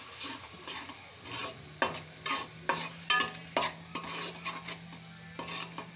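Onions fry in a pan for chicken karahi, a soft sizzle under rhythmic spatula scrapes and clinks against the pan, about a dozen strokes, close and fairly quiet, no talk.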